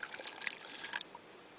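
Boiling water pours onto jelly crystals in a bowl, making a brief, quiet trickling splash close up.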